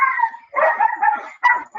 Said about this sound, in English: Chris, your doggies